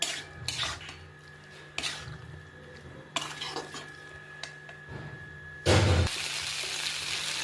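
Gogoli curry being stir-fried in a pan, with a metal spatula scraping and clinking against the pan in irregular bursts, ending in a louder rush of cooking noise.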